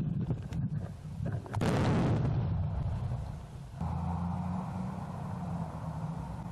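A bomb disposal team sets off a controlled detonation of explosive ordnance in a de-occupied area of Ukraine: a sharp, loud blast followed by a rumbling roar that slowly fades outdoors.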